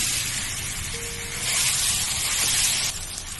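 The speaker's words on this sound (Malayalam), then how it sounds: "നമ്മൾ അരച്ചു വെച്ചിരിക്കുന്ന ഏത്തപ്പഴം അതിലൂടെ ചേർത്ത് കൊടുക്കാം." Mashed banana added to about four tablespoons of hot ghee for banana halwa gives a steady hiss and sizzle in the pan, fairly soft and swelling slightly midway.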